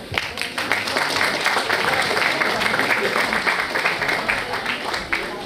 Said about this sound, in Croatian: pa evo podržimo ih jednim pljeskom